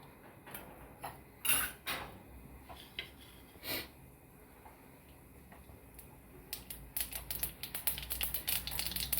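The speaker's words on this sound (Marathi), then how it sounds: "मोहरी तडतडली का जिरं टाकायचं।" Mustard seeds crackling in hot oil in a kadhai, faint scattered pops and ticks that grow denser and quicker toward the end.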